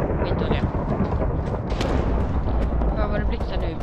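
Lightning and thunder in a Minecraft match on the CubeCraft server produce a loud, continuous crackling rumble that fills the whole moment, with a voice speaking underneath.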